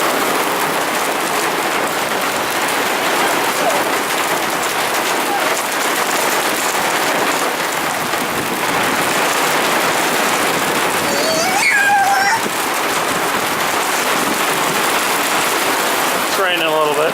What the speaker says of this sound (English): It's starting to rain a little bit now.